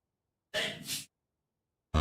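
A single close, sharp sneeze bursts out of silence, and another abrupt voiced sound follows moments later.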